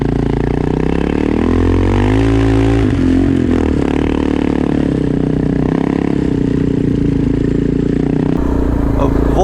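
A Suzuki DR650 dual-sport motorcycle rides through soft beach sand, its engine loud and close throughout as it climbs a sandy rise and shifts into second gear, with gritty scraping under the steady roar.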